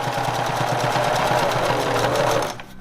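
A sewing machine runs steadily while stitching the seam of a homemade fabric face mask, a fast rhythmic chatter up close that stops just before the end.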